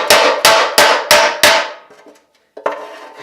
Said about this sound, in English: we're going to take a little body hammer and just give it a few whacks